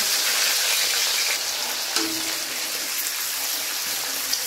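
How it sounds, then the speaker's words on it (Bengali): Finely chopped onions hit hot oil in a pan after fish pieces were fried, producing a loud, dense crackling sizzle that holds steady throughout with a few faint knocks and no speech. "গরম তেলে পেঁয়াজ কুচিগুলো দিয়ে দিচ্ছি।"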